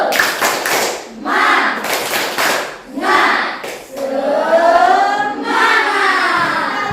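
A classroom of children performs a spirit clap, several loud patterned bursts of hand claps near and clear, alternating with a teacher's voice and children's chanting in between.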